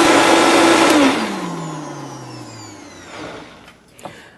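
A blender running on raw cilantro pesto, loud whirring motor for about a second, then winding down with a falling pitch as it spins to a stop, followed by a faint clunk or two.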